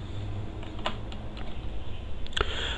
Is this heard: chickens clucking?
no